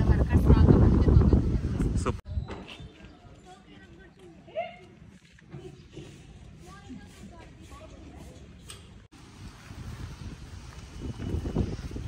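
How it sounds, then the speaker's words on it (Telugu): Outdoor wind gusting across the microphone while picking jasmine flowers, loud rumbling buffets at the start and end with quieter breezy noise between, and people talking intermittently over it. "గాలి చూడండి ఎంత బాగుందో."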